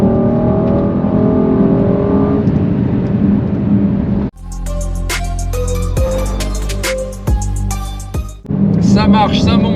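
The 5.5-litre V8 of a Mercedes-AMG GLC 63 S Coupé, a sporty SUV, drones loudly under acceleration and then climbs through hard, rising revs with crisp gear changes. A voice speaks over the opening part.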